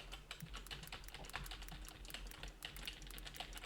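Rapid, quiet clicking of keys on a computer keyboard, an irregular patter of close taps continuing steadily throughout with no talking.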